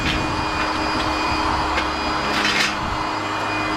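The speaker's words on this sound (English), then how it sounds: "I've never let this pump run this long, but they're designed to run wide open like that." A pump runs wide open, giving off a steady, loud, continuous whirring rush that stays constant throughout, with no talking.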